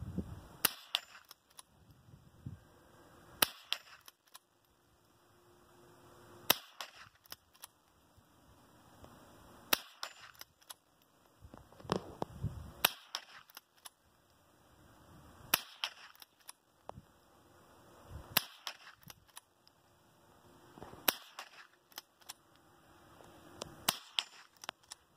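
Sharp .22 rifle shots from a Winchester 9422 ring out outdoors, about eight spaced reports across the span, each a crisp crack with a short tail over faint background.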